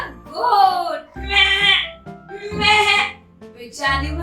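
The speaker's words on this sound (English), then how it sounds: "It makes meh sound and it is a farm animal. This is a goat." A goat bleats in a series of four wavering, nasal calls, loud and close, with short pauses between them.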